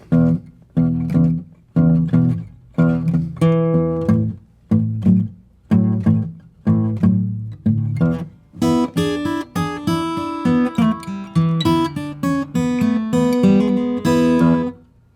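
Acoustic guitar plays a twelve-bar blues shuffle in E, strummed chords in a steady swinging pattern, then a busier riff with single-note runs, no voices.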